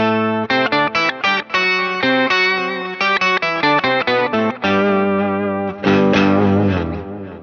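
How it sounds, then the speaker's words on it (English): Electric guitar played through an HX Stomp dual pitch block, close and loud, with quick repeated picked notes and thick doubled tones, then sustained chords ringing out toward the end. "this pitch block is set up for a dual pitch"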